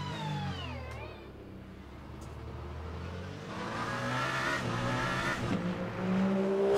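A race car in Le Mans Ultimate is heard from outside, engine whining through gear changes and rising to a louder, building roar with tire squeal toward the end.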